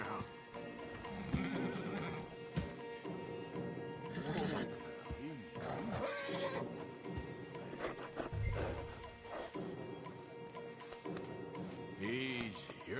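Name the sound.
horse neighing and hoof clip-clop in Red Dead Redemption 2 video game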